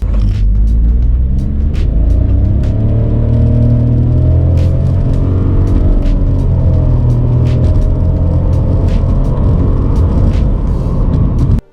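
A Citroën C3 Aircross Turbo drives along, its engine and road noise forming a loud, steady, unbroken rumble with no voices.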